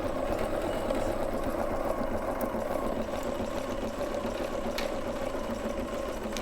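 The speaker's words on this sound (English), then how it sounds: "it will do the satin stitch to keep everything nice and neat." An embroidery machine stitches a dense satin-stitch border after its tack-down line, giving a continuous fast mechanical whir and rapid needle chatter that stays steady and close throughout, with no voices.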